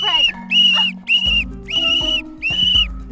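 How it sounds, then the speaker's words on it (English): A whistle at a soccer game shrills in five sharp, loud blasts in a quick rhythm, with low thumps and background noise between them. "Is this you're whistle working?"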